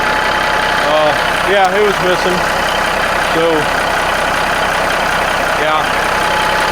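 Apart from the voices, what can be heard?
1985 Freightliner FLC truck engine idling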